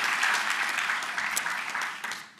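An outdoor audience at a National Night Out community kickoff breaks into applause, a dense patter of clapping with a few sharper individual claps, staying fairly full before thinning out at the end.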